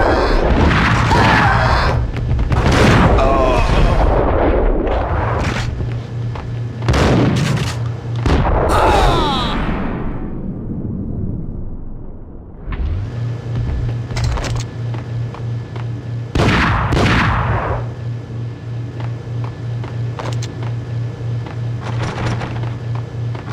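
Gunfire in the PlayStation game Max Payne, loud and close: bursts of shots and booming blasts come in clusters over a steady low engine-like hum, with a brief lull midway before the firing resumes.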